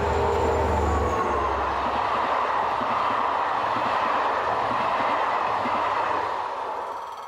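Locomotive number 72074 hauls the 1509 Nantes–Lyon train up a grade east of a town, a loud, steady rail roar with deep engine rumble and wheel noise that holds throughout and eases slightly at the end.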